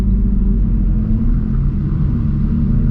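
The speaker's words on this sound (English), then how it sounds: "Wow, Lambo going through a river" A Lamborghini rolls through a river on a road lined with supercars, its engine a steady, loud low rumble with the wash of water underneath and no voices.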